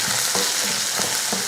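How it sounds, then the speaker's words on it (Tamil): One large onion and about four green chilies, with chana dal, mustard seeds and curry leaves, sauté in hot oil, giving a steady close sizzle with rhythmic stirring scrapes and no talk. "வெங்காயம் பார்த்திங்கன்னா நல்லா வதங்கி வந்துடுச்சு"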